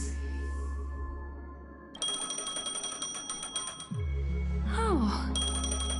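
A phone ringing in the game Honkai: Star Rail, a bright electronic ringtone with steady repeating tones over a low hum, and a few sliding chime notes toward the end.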